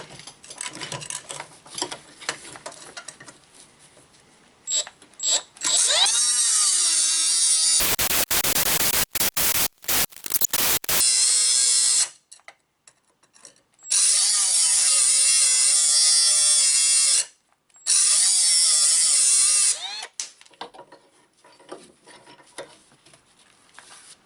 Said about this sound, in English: if it wants to stay there and we got it down this far, we will grind it now